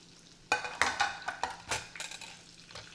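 Chicken in a pan on high heat, with short bursts of sizzle and utensil clatter in a quick, uneven series, close and fairly quiet, with no talk.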